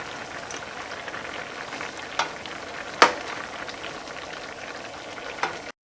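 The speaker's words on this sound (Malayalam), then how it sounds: "ഈ കറി ഒന്ന് ഇളക്കിയിട്ട് കൊടുക്കുക" Kovakka paal curry, made with ivy gourd in milk, bubbles and simmers in a pot while being stirred, a soft continuous sizzle broken by a few sharp spoon knocks.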